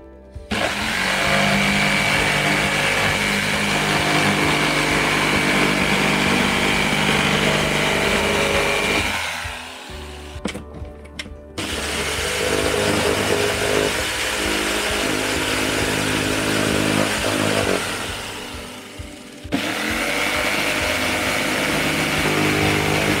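A loud, steady whine of a power saw cutting a wooden board during camper-van DIY work, running continuously for long stretches with two short pauses where the motor drops off before cutting resumes.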